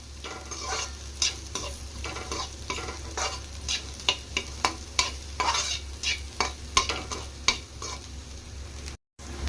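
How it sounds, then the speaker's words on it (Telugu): Finely cut vegetables stir-fried on a high flame for vegetable fried rice, a loud close sizzle with rapid repeated scrapes and clanks of a spatula against the pan, no speech. "ఈ కూరగాయలు ఫ్రై అయ్యేటప్పుడే ఫ్రెండ్స్ నేను కొంచెం సాల్ట్ వేసుకుంటున్నాను"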